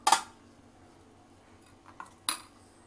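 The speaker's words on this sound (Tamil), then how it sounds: "ஒரு ஸ்லைஸ் பிரெட் எடுத்து ரெண்டு பக்கமும் தேய்ச்சிருங்க." A knife spreading salted butter across a slice of bread, heard as a few sharp metallic scrapes and clinks, one at the start and another near the end, separated by quiet.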